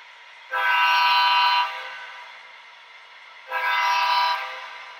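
Two sustained horn blasts from a model train, loud and close, each lasting about a second with a pause between.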